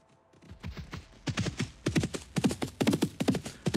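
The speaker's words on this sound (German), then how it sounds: "Das Pferd macht hopp, hopp, hopp" Horse hooves clip-clop in the survival game DayZ, a run of sharp, fairly close footfalls that starts sparse and quickens into a steady rhythmic trot, heard alone.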